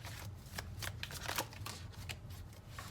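A deck of tarot cards being shuffled by hand close up, a quiet run of soft riffling flicks and papery slides in uneven bursts, with no talking.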